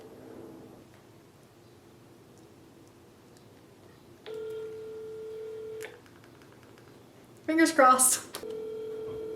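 A phone call ringing out, with a quiet hum followed by repeated ringback tones and a short burst of dialing or notification beeps, close by, as a person speaks briefly over it.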